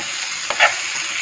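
Onions and green chilies sautéing in a pan for mutton fry, a short steady close sizzle with one quick spatula stir in the middle, no voices.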